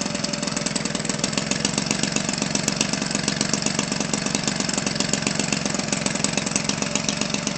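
A Homelite 25cc gas engine for an RC model airplane, running steadily at a fast, buzzing rpm with a rapid, even firing rhythm, loud and close throughout with no pauses.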